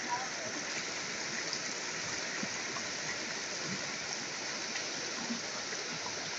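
River water flowing at a swimming hole on a vacation outing, a steady broadband rush and babble that continues evenly throughout at moderate distance, with no clear voices over it.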